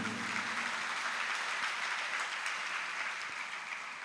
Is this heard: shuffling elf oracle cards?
no